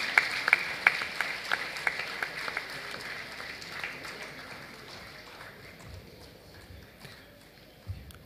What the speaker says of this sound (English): Please kindly keep clapping until she climbs the podium.